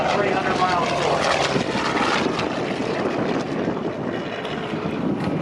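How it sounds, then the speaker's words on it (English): A Vietnam-era A-4 jet and a Skyraider propeller plane pass at an airshow over Houston in 2017, giving a loud, continuous engine roar that swells and fades slightly, with a voice faintly audible beneath it. "Here comes the A4 in the photo pass."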